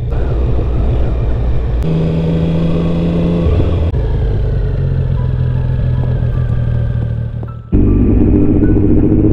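A car descending the last mountain pass of the day in the Pyrenees, its engine and road noise a loud, continuous drone heard from inside, with small shifts in pitch as it changes gear partway through.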